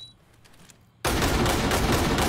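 A flashbang grenade goes off in a SWAT simulator video game. A quiet room breaks into a sudden loud blast about a second in, followed by sustained harsh roaring noise to the end.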